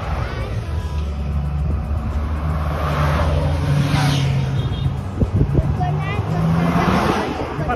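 A car from the Giro d'Italia caravan passes along the roadside, its engine hum and rushing tyre noise swelling and fading over several seconds beneath continuous nearby chatter from spectators.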